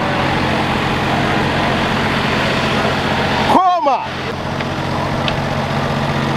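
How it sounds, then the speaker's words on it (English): An old-school British lorry engine rumbles steadily and close throughout, while someone talks over it briefly partway through. "Old school British lorry or truck."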